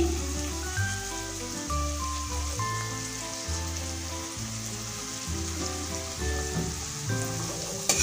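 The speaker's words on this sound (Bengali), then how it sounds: "কুচানো ক্যাপসিকাম দিয়ে দিচ্ছি এবার দুটো একসঙ্গে ভেজে নেবো" Chopped capsicum sizzles and fries in a pan, a steady crackling hiss running throughout at close range, with a clattering, rhythmic pattern underneath and no talking.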